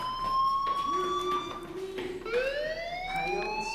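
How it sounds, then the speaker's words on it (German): A school fire alarm in the game Life is Strange sounds as a steady electronic tone that slowly rises in pitch, with a second siren-like layer joining partway through, all at moderate volume and with no talking. "Hey, do you hear that fire alarm?"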